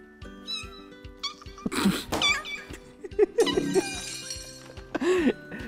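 Cats meow repeatedly in a VR cat video game, a few short high calls rising over background game music and sound effects, with a person talking now and then.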